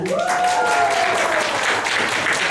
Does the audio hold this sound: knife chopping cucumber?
no